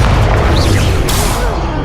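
Fiery blasting spells detonating in Hogwarts Legacy gameplay, a dense, loud booming burst with a sharp crackle near the middle, filling the whole stretch without a pause.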